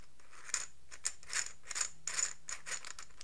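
Sharp plastic clicks and clacks come in quick bursts from a 3D printed magnetic speed cube being twisted, its layers snapping and rattling close up with no talking.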